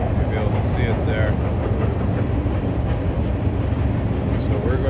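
A long train rolls past a riverside walkway at dusk with a steady heavy rumble and faint rhythmic rail clatter, continuous and fairly close, with brief higher squeals above it.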